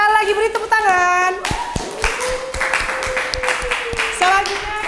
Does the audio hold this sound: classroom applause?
yes